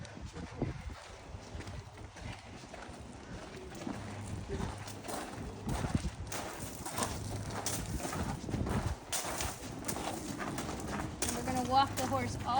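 Horse hooves clip-clopping at a walk on a riding trail course at a Special Olympics event, a moderate irregular clatter of steps under frequent nearby talking.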